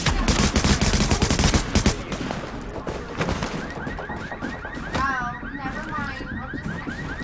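Video game gunfire rattles out in a loud, rapid burst of close shots for about two seconds, then gives way to quieter scattered effects and warbling electronic tones.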